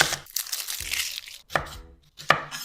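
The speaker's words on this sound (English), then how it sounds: "I'm also gonna cut into strips." Knife chopping onion into strips on a cutting board while preparing Japanese japchae, giving several crisp, close chops with short pauses between them and no talk.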